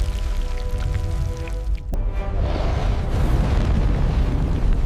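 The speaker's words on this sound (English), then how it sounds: "The magma erupts." A magma eruption in an animated monster battle with a fire serpent: a low, rumbling roar with crackling debris, and a sharp burst near the middle followed by a heavier, building rumble.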